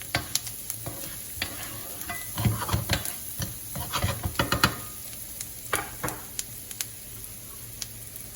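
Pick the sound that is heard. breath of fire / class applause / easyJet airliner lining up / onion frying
onion frying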